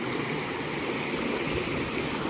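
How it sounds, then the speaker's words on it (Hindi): Steady rushing of water pouring between large rocks at a waterfall, a continuous broadband roar close by with no voices over it. "बड़े बड़े चट्टान है, चट्टानों के बीच से पानी जा रहा है।"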